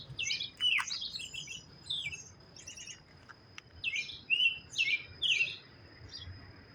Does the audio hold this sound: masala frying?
no